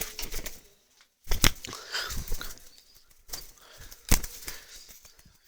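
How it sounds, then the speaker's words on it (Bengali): A hunting pigeon flies alongside a motorbike outdoors, its wings flapping in several sharp bursts separated by quieter gaps, close and fairly loud. "আজকে আমার শিকারি কবুতর উড়াচ্ছি বাইকের সাথে"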